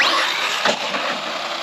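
An RC monster truck engine screams at full throttle, a short, close burst of high-pitched, buzzy whine that holds steady with a brief surge midway.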